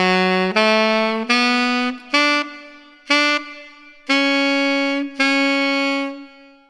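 Saxophone playing the third phrase of a song's hook, a run of seven bright, sustained notes with short breaks between them, played alone, close and loud.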